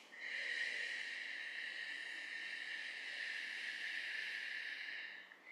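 A slow, steady breath out during a yoga breathing exercise, a soft airy hiss held evenly for about five seconds and fading at the end, close and quiet with no talking.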